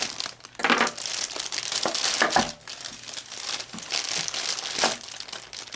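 Plastic packaging around an anime figure is cut open and crinkled during unboxing, giving continuous close crackling and rustling with sharper crunches throughout.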